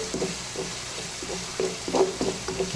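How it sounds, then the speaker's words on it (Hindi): Masala fries in a pan for chana pulao, soft sizzling under intermittent spoon scrapes and stirring knocks, fairly close and moderate in level. "मसाला अच्छी तरह भून चुका है"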